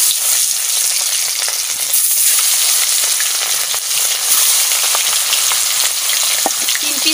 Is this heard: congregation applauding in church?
no